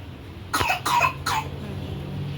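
A few dry coughs, three separate bursts in quick succession, close to the microphone, with a low steady hum beneath and no talking.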